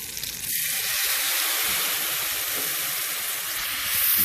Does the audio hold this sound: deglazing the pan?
yes